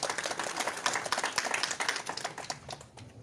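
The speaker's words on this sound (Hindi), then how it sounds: "ताली से स्वागत करेंगे please." A church congregation claps to welcome the pastor at a service, a brief burst of rapid, dense hand claps heard at moderate distance and fairly quiet, fading slightly at the end.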